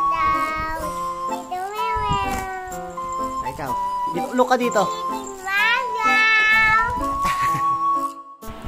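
A cat meows several times in long, rising and falling cries, close and loud, while someone talks between the calls and a small bell jingles.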